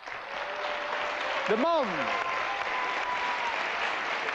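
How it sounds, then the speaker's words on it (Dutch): Studio audience applause on a 1988 Dutch television game show, steady dense clapping throughout while a voice speaks briefly over it near the middle. "Uw applaus voor Gerard Cox."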